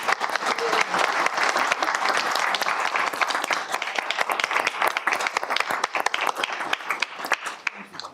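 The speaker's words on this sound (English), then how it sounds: "I want us all to applaud Renee Hardman, please" Sustained audience applause at a city council meeting, a dense, steady wash of many hands clapping that fills the room, close and loud throughout, with faint voices mixed in.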